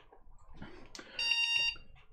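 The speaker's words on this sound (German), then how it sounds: "Gleich müsste er piepen, weil er hat einen eingebauten Piepser." PC motherboard's built-in beeper sounding at power-on, a short faint electronic beep pattern of about half a second, heard amid quiet room noise and handling sounds.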